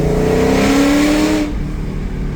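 A tuned 2003 Ford SVT Cobra engine revs hard at wide open throttle with a loud, steady, rising roar, then the throttle lifts and the engine note drops.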